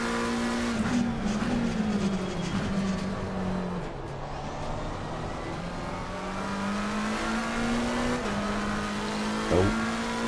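McLaren GT race car engine from Assetto Corsa Competizione at the Kyalami circuit, a steady, loud droning whine that rises and falls through gear changes for the whole stretch, with a brief sharp blip near the end and no talk.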